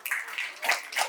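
Louder clapping from an audience at a child's first birthday party, a short burst of several hands beating together in quick uneven bursts, fairly close and moderately loud.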